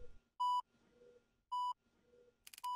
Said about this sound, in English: I hear beeping